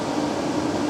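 A workshop air conditioner runs with a steady, even broadband hum and a faint low drone, holding level throughout with no speech over it.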